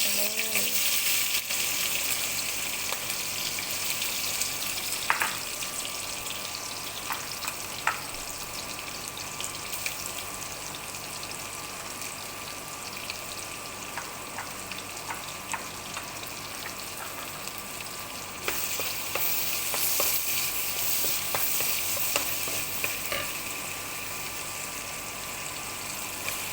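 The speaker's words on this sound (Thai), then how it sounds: "น้ำมันร้อนแล้วลงไปเลย" Pork frying in hot oil in a home kitchen, a steady dense sizzle and crackle running throughout at even loudness, with occasional sharper pops and spits.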